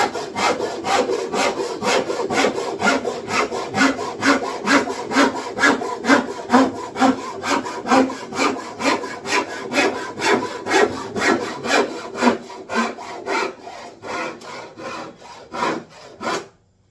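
An old, well-worn hand saw cuts through wood on a workbench, its strokes steady and rhythmic, close and loud for about sixteen seconds before slowing and stopping.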